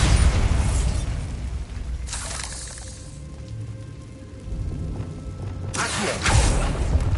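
Game explosion effects for a Bombarda spell: a deep booming blast opens the clip, followed by two further bursts with crackling debris and rumbling tails, fairly loud and without talk.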